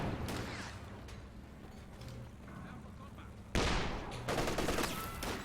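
Heavy machine gun and artillery fire rattle across a World War II real-time strategy battlefield, with steady background bursts and a sudden, louder volley at about 3.5 seconds, with the later shots denser and closer.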